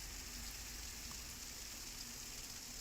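Heavy monsoon rain over Mumbai during a flooded-street downpour, a steady, dense hiss of rainfall with no breaks, moderately distant and even throughout.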